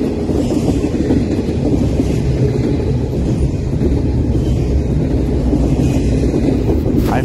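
A long, heavy Norfolk Southern freight train with double-stacked containers rumbles steadily past, a continuous low roar with faint rattling, loud and close, with no voices.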